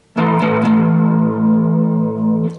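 A sustained bass guitar note rings out loud and steady, with a shimmering, warbling modulation over the tone before it fades near the end.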